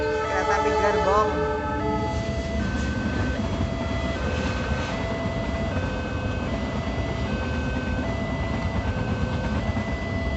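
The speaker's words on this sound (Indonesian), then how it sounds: "Kereta api gerbong." A passenger train's horn sounds loudly at the start, and then the train rumbles steadily past while a repeating high electronic tone from a level crossing or signal pulses above the rolling noise.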